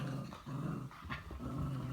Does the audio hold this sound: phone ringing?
no